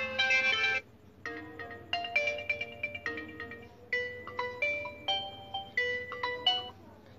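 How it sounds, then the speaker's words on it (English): An Oppo A38 phone ringtone previews from the settings menu. It plays a bright, tinkling melody of bell-like notes that repeat in a quick, bouncy rhythm at moderate volume. "choose the ringtone which you want to change."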